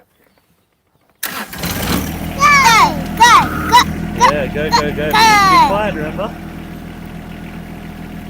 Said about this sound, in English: hopefully you guys can hear me okay over the sound of the tractor